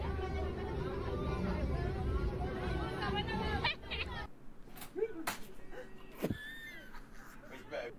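A house cat meows a few times in short separate calls, following a stretch of busy background chatter and noise that cuts off partway through.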